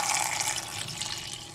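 Drinking water runs from a tap into a pot in a home kitchen, a steady close rush of pouring water that carries on without talk.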